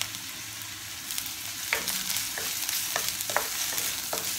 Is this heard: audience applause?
no